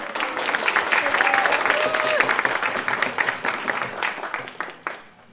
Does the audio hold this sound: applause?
yes